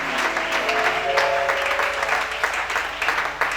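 Church congregation applauding during a worship service, a loud, steady burst of clapping with sustained voices and a tonal hum running beneath it.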